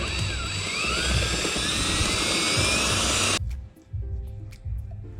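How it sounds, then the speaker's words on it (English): A high-pitched power drill whines steadily for several seconds while drilling holes to mount a fuel pressure regulator on a Nissan 240SX, then cuts out abruptly, leaving quiet room noise with faint knocks. "mark your holes and start drilling."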